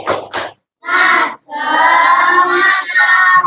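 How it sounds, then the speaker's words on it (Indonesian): An Indonesian classroom of students doing the 'tepuk semangat' clap chant: a few quick claps followed by the whole class loudly chanting together in sustained, rhythmic unison. "Sekali lagi tepuk semangat."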